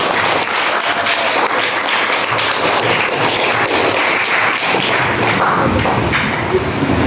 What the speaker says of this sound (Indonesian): Nah, beri tepuk tangan ke temannya.